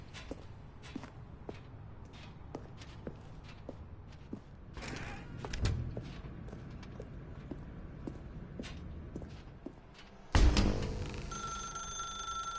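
In The Stanley Parable video game, a telephone rings in repeated short bursts, with soft footsteps shuffling underneath, then a louder clunk near the end.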